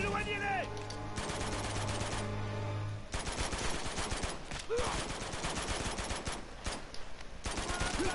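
Rapid bursts of automatic gunfire from the Uncharted 2: Among Thieves video game, dense and continuous over several seconds with crackling shots and a few brief pauses, mixed with game sound effects.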